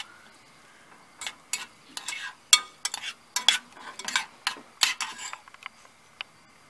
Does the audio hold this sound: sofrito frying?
yes